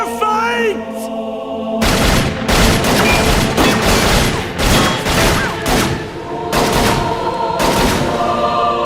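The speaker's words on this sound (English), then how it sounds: "For a few seconds, this place was Armageddon. There was a firefight!" Airsoft firefight at a Nashville field, with loud, dense bursts of rapid gunfire and sharp cracks piling up continuously across several seconds, close by and overlapping with no clear pauses.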